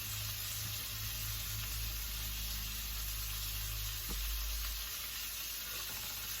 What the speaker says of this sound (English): Well, I smell that bacon cooking.